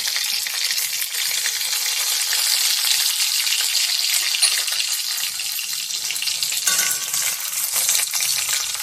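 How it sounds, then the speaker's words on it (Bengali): Green chillies and panch phoron sizzling in hot oil, a loud, steady close-up fry hiss with occasional stirring, no voices. "এবার দিয়ে দেবো কাঁচা লঙ্কা, দিয়ে দেবো 5 ফোড়ন।"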